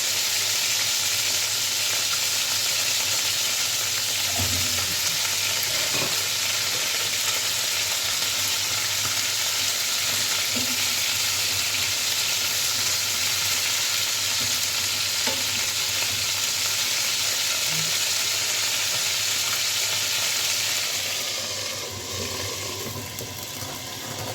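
Potatoes fry in a pan with a continuous loud sizzle that holds steady for a long stretch and eases slightly near the end.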